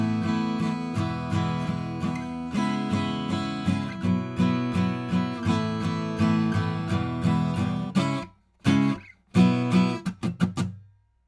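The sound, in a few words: guitar playing a chorus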